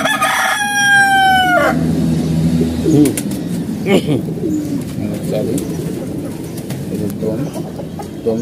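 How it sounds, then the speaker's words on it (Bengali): A restless black-and-white medium-sized pigeon calls and stirs close by among other birds, with a rooster-like crow at the start and soft fluttering and shuffling noises continuing after. "খুব ছটফট একটা কবুতর।"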